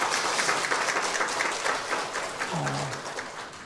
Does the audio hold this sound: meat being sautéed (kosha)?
no